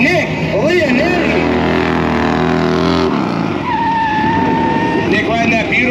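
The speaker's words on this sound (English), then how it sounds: "Nick riding that beautiful 1994 Harley Davidson FXR known as the Cobra" A 1994 Harley Davidson FXR bagger racing down a track course at a King of the Baggers event in New Jersey, its loud engine roaring and shifting pitch, with a commentator talking over it.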